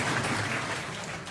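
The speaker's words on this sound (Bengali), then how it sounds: "1ম হয়েছে, হাততালি হবে।" A crowd applauds at a university management department award ceremony for top final-year students, a short, dense burst of clapping that fills the moment.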